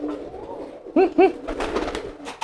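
Courting pigeon giring: two loud, close coos in quick succession near the middle, with low cooing murmurs and rustling around them and no talk.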